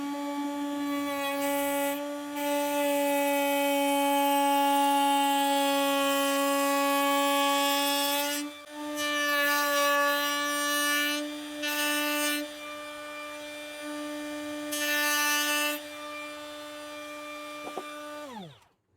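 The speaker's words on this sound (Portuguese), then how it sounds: "eu vou usar a fresa de chanfro 45 graus aqui nas pontas e na face" A router fitted with a 45-degree chamfer bit cuts the ends and faces of pallet wood, giving a loud, steady high-pitched whine with brief dips as the cut changes, then spinning down at the end; no talking.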